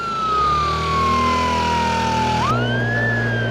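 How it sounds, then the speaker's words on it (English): A police motorcycle siren wails loud and close, its falling tone sweeping down then jumping to a rising, harsher yelp as the mode switches, with no talking. "Switch on the blues and twos."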